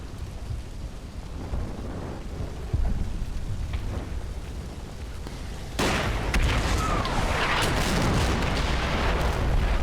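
Grenades burst in the World War II tactics game Combat Mission: Battle for Normandy, a run of dull booms over a rumbling battle backdrop that grows louder and denser partway through.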